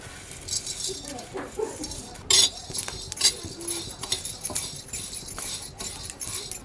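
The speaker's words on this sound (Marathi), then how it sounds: "गहू पण छान असे खरपूस भाजून घ्यायचे" Wheat grains dry-roast in a pan with whole spices for a stone-ground vade flour, making a busy rattling and clinking as a spatula stirs and scrapes, with a couple of louder metallic knocks.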